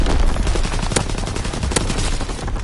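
Rapid gunfire from the World War II shooter Call of Duty WWII, bursts of automatic shots cracking over dense continuous battle noise, loud and close throughout.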